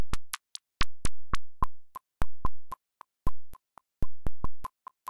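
Bleepy, bloopy modular synth tones from the Drambo app by BeepStreet pop in short, irregular bursts, bright plucky blips separated by brief silences, fairly close and clean.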